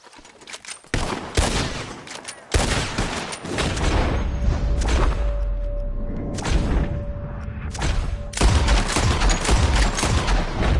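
Heavy, loud gunfire in Red Dead Redemption 2: sharp shots then a sustained, rumbling volley of overlapping blasts with a steady hum underneath, close and dense, with no speech over it.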